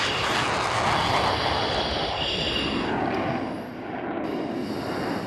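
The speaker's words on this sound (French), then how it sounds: "3, 2, 1, top lâcher les freins, post-combustion enclenchée." A two-seat Rafale fighter jet takes off with afterburner engaged, heard as a loud continuous broadband roar that fills the whole clip and dips slightly near the end.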